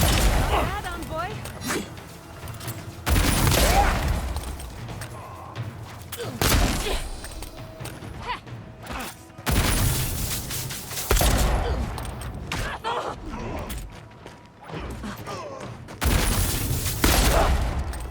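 Gunfire and booming combat blasts from the Avowed video game during a city attack, coming in loud repeated bursts separated by quieter stretches, with character voices calling out between the volleys.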